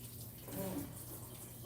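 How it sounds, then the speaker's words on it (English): Faint, steady running water from a kitchen sink tap during Thanksgiving turkey prep, a soft continuous hiss with no talk. "And I'll wash my sink off."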